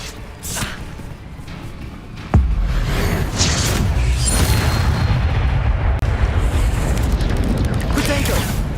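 An Incendio fire spell is cast in Hogwarts Legacy, with a sudden booming burst of flame followed by a sustained roaring whoosh. Earlier there are a few lighter magical swishes.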